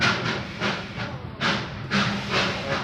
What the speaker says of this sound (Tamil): இந்த ட்ரெயின் எப்படி வருது பாருங்க.